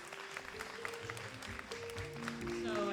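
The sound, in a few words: audience applause welcoming Priscilla Garces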